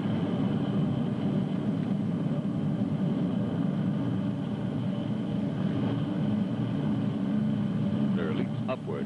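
Rocket engines fire on a Space Patrol ship in an old radio drama, heard as a steady, loud, continuous rumbling roar with a broad low drone that persists throughout.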